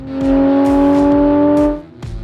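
Porsche 911 997.1 GT3 engine on a race track screams up toward redline after launch, a loud sustained rising wail with harmonic whine, then cuts off abruptly near the end with a brief drop.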